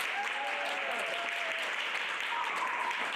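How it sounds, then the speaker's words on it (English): A conference audience claps continuously in a full, even wash of applause that lasts the whole moment, with a faint voice or cheer drifting over it. "You guys give yourself a round of applause for even coming"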